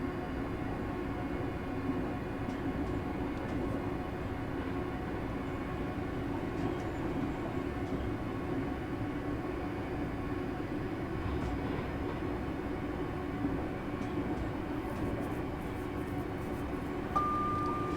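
Simulated Class 385 ScotRail electric train in Train Sim Classic on the Alloa to Glasgow Queen Street run, a steady continuous rumble and motor drone at speed with faint clicks, heard from inside and without talk.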